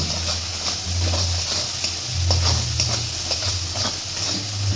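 Ground mustard paste masala, made from two kinds of mustard, fries over a full flame, giving a steady loud sizzle and hiss with scraping stirs throughout and no voices.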